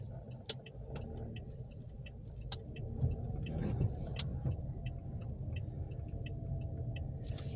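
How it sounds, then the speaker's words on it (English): A car's turn signal blinker ticks in a steady, even rhythm inside the cabin while a learner drives through a neighborhood, with a soft road rumble underneath and no talking. "All right, blinker."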